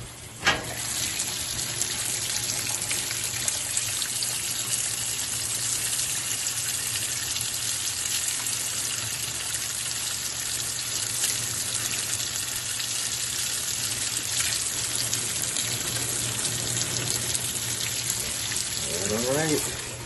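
Washing machine spinning a load with Tide Simply Plus Oxi detergent, a steady broadband whoosh of sloshing water and drum noise that runs unbroken and fairly loud throughout.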